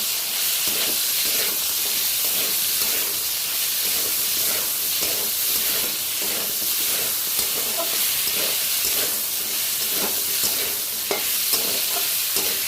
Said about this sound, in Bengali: এবার এটা একটু আমি ভেজে নেবো আদাটা